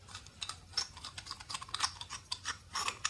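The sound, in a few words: unscrewing LED torch heatsink using scissors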